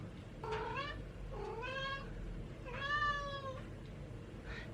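A cat meows three times, drawn-out and rising, fairly near but quiet over a steady background hum, with no talking.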